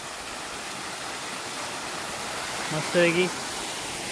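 A perennial waterfall on the Konkan coast roars as a constant, dense wash of noise, with someone speaking briefly over it near the end.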